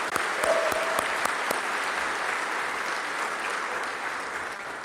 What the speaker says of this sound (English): And if we get another round of applause for our singer